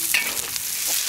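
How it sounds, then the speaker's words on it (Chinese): Pig lung fries in oil in a wok as the fat renders out, giving a continuous bright sizzle with scraping stirs from a spatula. It sounds close and fairly loud, with no talking. "你看油炸出来了，把里面的油炸出来，要吃的时候才香。"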